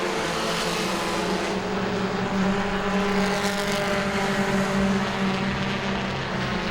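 Super trucks race around Langley Speedway, a loud continuous engine roar with steady droning tones that swells slightly in the middle, no voices.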